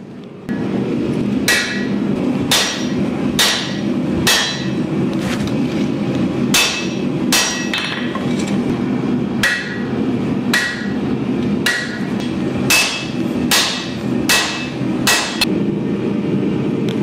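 Hammers strike a Damascus san-mai kukri blade being forged, ringing metallic blows landing one or two at a time in an irregular, steady rhythm, loud and close, with no talking.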